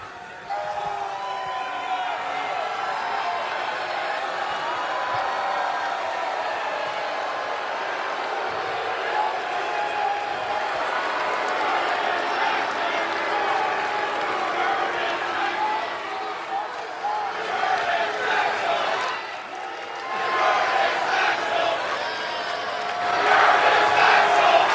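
A wrestling arena crowd chants and cheers for Curtis Axel, a dense, sustained roar of many voices heard from within the audience, swelling slightly louder near the end.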